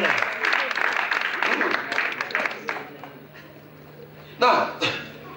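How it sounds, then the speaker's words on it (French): A church congregation applauds for the Lord, a steady wash of many hands clapping that gradually thins, then a sharp fresh burst of clapping near the end, with a low hum running underneath. "That's a place where pastors should applaud for the Lord."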